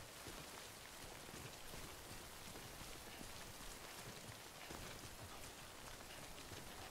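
Steady rain falling on surfaces in the video game Death Stranding, a dense continuous hiss with scattered droplet patter, even and unbroken throughout.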